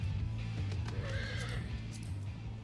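A horse whinnies in Final Fantasy XIV, a short neigh over a steady low game-music and ambient bed, with faint hoof clip-clops; no talking.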